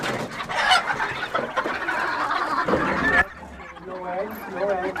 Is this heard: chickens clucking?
yes